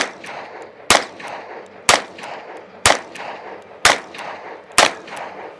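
Five sharp, loud Colt Python revolver shots, evenly spaced about a second apart, each with a short ringing tail, from a Walking Dead zombie scene, with no talking between them.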